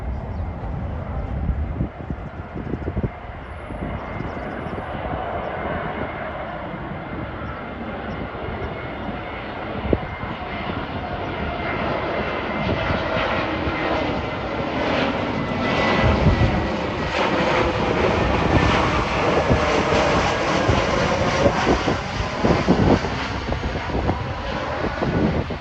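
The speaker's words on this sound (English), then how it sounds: "Next up is Viva Aerobus A320 from Mexico City." A Viva Aerobus Airbus A320 jet airliner passes overhead, a steady broad engine roar that swells louder toward the end and holds for the whole stretch, with no voices.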